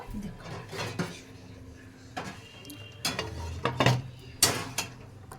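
Spoon stirring chickpeas in a metal cooking pot at home, several distinct scraping clanks and knocks spaced irregularly, with quieter rustling and a faint sizzle between them.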